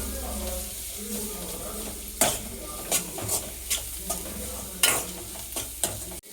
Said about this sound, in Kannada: ಖಾರದ ಪುಡಿ ಹಾಕ್ಕೊಂಬಿಟ್ಟು ಸ್ವಲ್ಪ ಫ್ರೈ ಮಾಡ್ಕೊಳ್ಳಿ.